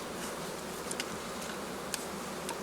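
Honey bees hum at an apiary, a steady low buzzing drone with a few brief louder passes of individual bees near the ear.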